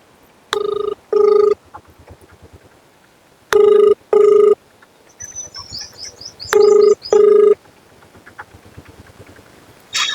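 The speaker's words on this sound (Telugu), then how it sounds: "ఒకసారి మీ బ్రదర్ కి కాల్ చేయండి" Three double rings of a telephone bell come loud and close at steady intervals, with a short chirpy electronic warble between them and no talk.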